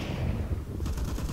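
MP5 submachine gun fire in a video game: a rapid, continuous burst of heavy shots, loud and close, lasting under two seconds with no talk.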